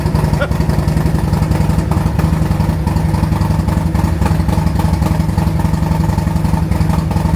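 A loud, close Harley-Davidson motorcycle engine fitted with Zombie exhaust baffles idles with a deep, rapid, lumpy rumble and rattling clatter, steady throughout.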